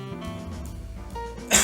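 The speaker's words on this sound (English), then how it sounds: "we still got a little bit of cough" A single sharp cough bursts out near the end, close and loud, after a quiet stretch with a faint tonal hum.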